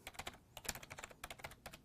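Rapid, irregular keystrokes on a computer keyboard as a command is entered at a terminal, each click crisp and close, with no voices.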